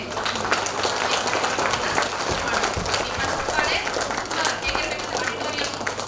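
Audience applause at a school annual day celebration, a steady wash of clapping from a large crowd lasting throughout, with crowd noise and chatter mixed in.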